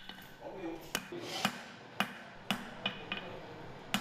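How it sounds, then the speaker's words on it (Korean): A hammer strikes iron at a blacksmith's forge, giving about nine sharp metallic blows at uneven intervals, close and ringing, with a voice talking underneath. "쇠를 자르고 붙이고 망치로 두들기며"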